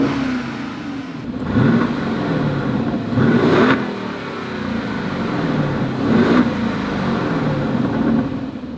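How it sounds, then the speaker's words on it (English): An Aston Martin DB11 V8 in GT mode revs at a standstill, its engine idling with a low burble between three sharp throttle blips that rise and fall. The sound is loud and close, with no voices. "let's put it into GT first and I'll show you what the revs sound like"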